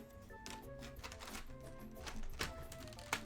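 Keycaps being snapped back onto a custom keyboard produce a quiet, irregular series of small plastic clicks and taps, close up with soft background noise.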